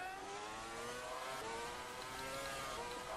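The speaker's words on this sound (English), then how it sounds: "bouncing off the rev limit to 180 miles an hour" A 2013 Formula 1 car in the racing game rFactor 2 screams at its rev limit near 180 mph, a loud, sustained high engine note with slight pitch wavering, alone without speech.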